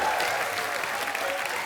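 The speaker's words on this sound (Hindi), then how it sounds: "जोरदार तालियां" A studio audience on The Kapil Sharma Show, a Hindi comedy talk show, bursts into dense, sustained applause welcoming guests, with a voice faintly audible over the clapping.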